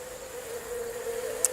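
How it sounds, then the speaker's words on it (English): About three hundred agitated honeybees buzz inside a cup during a sugar shake mite test, a steady close droning hum with a faint brief tick near the end. "300 angry bees inside the cup"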